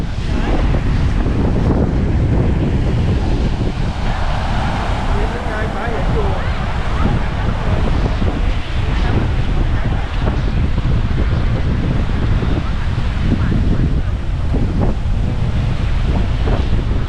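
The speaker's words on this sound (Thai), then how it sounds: "ถ้าเสียงลมดังก็ขออภัยด้วยนะครับ เพราะว่า มาอยู่หน้าริมชายหาดแล้วรู้สึกว่าลมจะ พัดแรงมากนะครับ" Strong evening wind on the beach at AVANI Hua Hin buffets the microphone in a constant roar, with surf washing in the background throughout.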